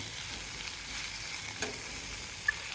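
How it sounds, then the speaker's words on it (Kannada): Tomato and turmeric sizzling in a frying pan while being stirred, a steady soft frying hiss with a faint utensil scrape partway through. "ಹಾಗೆ ಟೊಮ್ಯಾಟೊ ಕೂಡ ಹಾಕಿ, ಸ್ವಲ್ಪನೇ ಅರಿಶಿನ ಹಾಕ್ತಾಯಿದ್ದೀನಿ. ಸರಿ, ಮಿಕ್ಸ್ ಮಾಡಿಬಿಟ್ಟು"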